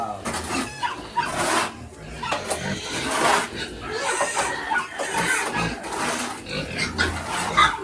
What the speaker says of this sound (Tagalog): Mga baboy sila, mga mukhang baboy.